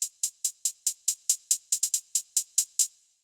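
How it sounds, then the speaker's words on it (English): A two-step hi-hat pattern in a cinematic trap-style beat: bright hi-hat hits tick at a moderate, even pace with a quick double hit in the middle, played alone and fairly quietly. "Then the second hi-hat pattern is a two-step pattern"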